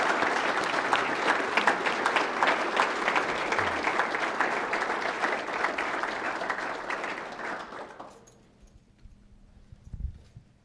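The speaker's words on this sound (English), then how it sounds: "So if we could applaud our panelists here in gratitude." A lecture audience applauds its panelists, dense steady clapping for about eight seconds before it tapers off and fades into near silence.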